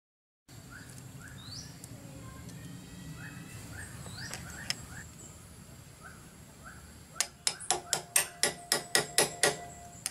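A four-stroke engine part is struck against the floor in a rapid burst of about ten sharp metallic knocks near the end, after a stretch of quiet workshop ambience with birds chirping in the background.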